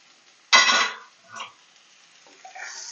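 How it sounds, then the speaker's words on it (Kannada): Grated carrot goes into a hot pan of idli paneer upma with a sharp, brief sizzle, followed by a couple of softer scraping stirs against the pan amid near silence. "ಕ್ಯಾರೆಟ್ ಹಾಕಿ ಚೆನ್ನಾಗಿ ಮಿಕ್ಸ್ ಕೊಡೋಣ."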